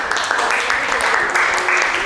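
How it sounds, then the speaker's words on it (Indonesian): Children in a classroom clap together after finishing their sketch work, a short loud burst of lively applause with a few voices mixed in. "Beri tepuk tangan buat kita semuanya ya."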